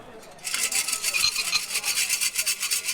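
An omikuji fortune box at a Tokyo shrine is shaken rapidly, its contents making a bright, rhythmic rattling and scraping that starts abruptly and keeps a steady pulse.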